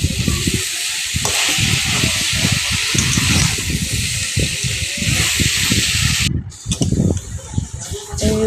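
Pumpkin curry sizzles and hisses steadily in a frying pan after a little water is added, a broad loud fizz with scattered pops and clatter under it, briefly cutting out near the end.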